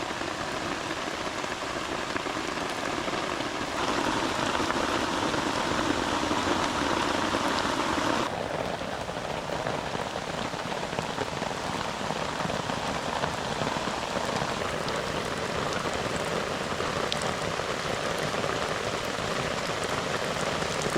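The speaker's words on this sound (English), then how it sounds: "It is absolutely bucketing it down." Heavy rain pours down on a wild camp during a long thunderstorm, a dense, unbroken drumming and pattering on surfaces close around, steady and loud for the whole stretch with no voices.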